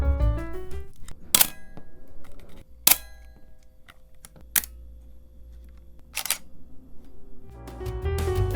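Four sharp mechanical shutter clacks from a Canon FX film camera without a leaf shutter fire at irregular intervals, loud and close, with quiet gaps between them and no talking.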